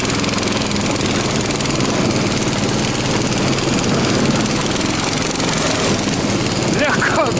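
The engine of an Albatros all-terrain vehicle drones continuously and loudly as it climbs a hill near a taiga river, a steady rumbling buzz that never lets up.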